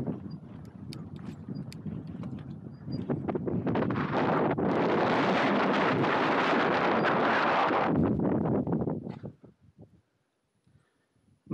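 Strong Sahara desert wind on a caravan route batters the microphone in a loud, roaring buffet that swells for several seconds, then drops away abruptly into near silence.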